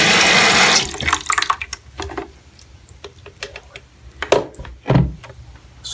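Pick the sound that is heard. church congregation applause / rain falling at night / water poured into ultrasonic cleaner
water poured into ultrasonic cleaner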